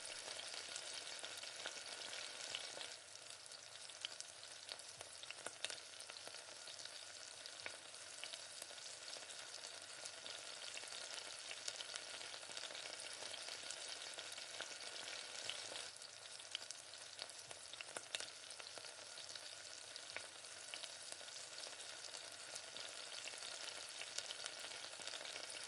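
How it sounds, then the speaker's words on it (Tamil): Pieces of chicken 65 deep-fry in hot oil with a dense, even hiss and crackle that runs unbroken for the whole stretch. It sounds faint but steady, with no voices. "இப்போ எல்லா சிக்கனையும் ஒரே மாதிரி இந்த மாதிரி பொரிச்சு எடுத்துக்கலாம்"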